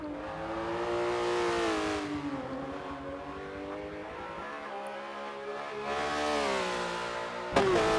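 A Porsche 911 GT3 RS engine in a racing video game screams at high revs, pitch rising and falling through gear changes over a sustained loud whine, with a brief dip mid-way before climbing again.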